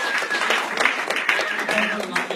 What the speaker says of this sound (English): can we get a quick round of applause for Adam and Sam?